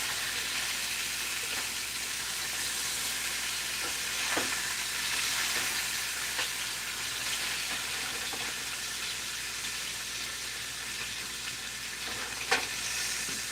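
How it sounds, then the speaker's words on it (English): Lamb shoulder chops sizzle and pop in a pan, a steady, close hiss of frying broken by a few sharp pops and crackles, with no talking over it. "it is sizzling and it is popping"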